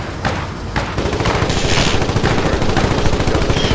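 Video game gunfire aimed at an enemy vehicle: rapid machine-gun bursts, loud and continuous, with sharp repeated cracks over a dense rumbling background.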